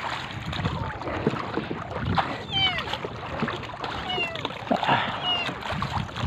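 A small kitten rescued at sea mews repeatedly in thin, high cries over wind and the splash and knock of a paddled boat, with a voice speaking softly at times.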